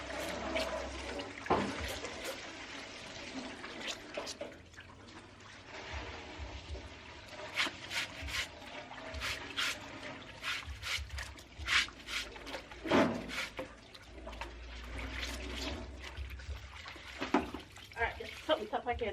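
Water running from a tap to fill up for laundry in rural Jamaica, an uneven splashing and gushing with intermittent louder surges and clunks, fairly close and quiet.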